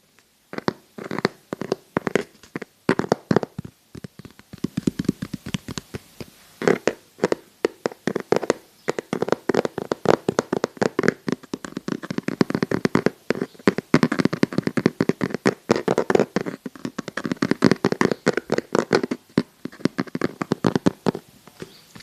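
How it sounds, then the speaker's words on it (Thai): ASMR tapping recorded on a dynamic microphone: rapid, close, crisp taps arriving in quick irregular bursts, sharp and fairly loud, continuing throughout with no speech. "ASMR ก็ต้องมีเสียงเคาะด้วยนะครับ"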